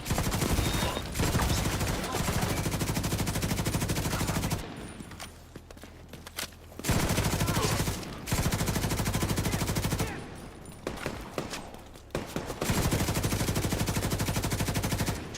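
Automatic gunfire in The Division 2, long loud sustained bursts of rapid shots separated by brief pauses, close and dominant, with faint voice and movement sounds in the gaps.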